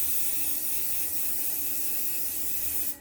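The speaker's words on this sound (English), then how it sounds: "I'm just going to spray on here, like so." Steady hiss of an aerosol spray can spraying onto a guitar fretboard board in a workshop, a continuous close spray that cuts off abruptly near the end.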